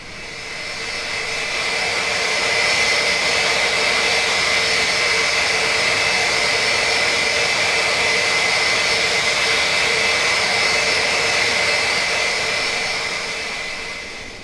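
Four Rolls-Royce Olympus jet engines on an Avro Vulcan bomber spool up to about half RPM while the aircraft is held on the brakes before takeoff, a loud, steady rising whine and roar heard from inside, swelling in and sustained.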